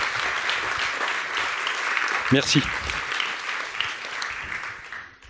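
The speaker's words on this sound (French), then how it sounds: "On peut l'applaudir." Steady applause from a lecture audience fills the clip, with a brief French spoken word cutting through near the middle.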